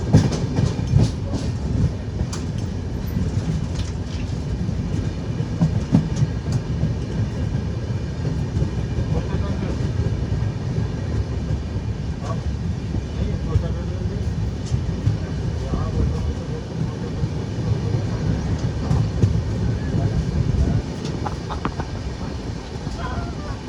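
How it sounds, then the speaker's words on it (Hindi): An express train rolls along the railway on the Danapur–Secunderabad route, a loud, continuous rumble with rhythmic clickety-clack of wheels over rail joints, lasting the whole stretch, while a voice talks over it. "पता नहीं कौन सी एक्सप्रेस है, हाँ मगर कोई एक्सप्रेस ट्रेन ही लग रही है ये।"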